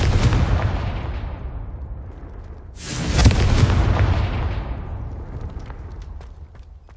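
A Confringo fire spell blast in Hogwarts Legacy, a loud booming explosion that rumbles and fades, then a second heavy burst that tails off into a lingering roar.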